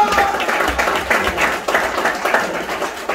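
A church congregation claps together during a Sunday worship service, a dense, fairly loud run of clapping that carries on steadily from start to finish, with faint voices underneath.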